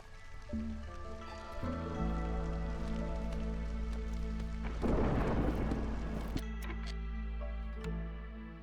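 An incoming thunderstorm in the game Against the Storm brings steady rain on surfaces and a low, sustained rumble, with a swelling burst of noisy thunder midway before it settles back into the ongoing downpour.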